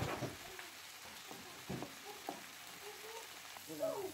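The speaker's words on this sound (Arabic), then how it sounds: "كنخليو البصله والفلفله يطيحوا ويدبالوا واحد شويه قبل ما كنضيفوا عليهم الكبسه، ومره مره كنحركوهم" Onion and bell pepper fry in a pan with a soft, steady sizzle, stirred now and then, the scrapes giving a few brief louder bursts over the crackle.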